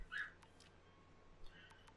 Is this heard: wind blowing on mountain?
no